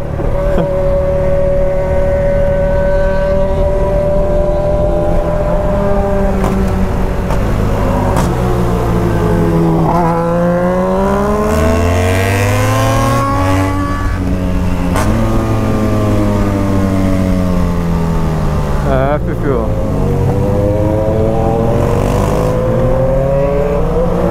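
A BMW 1200 motorcycle ridden close up and loud revs through repeated rising acceleration sweeps, pausing at gear shifts, with a steady engine roar throughout and no talking.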